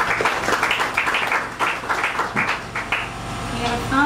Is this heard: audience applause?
yes